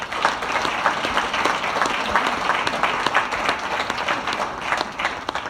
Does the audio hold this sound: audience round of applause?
yes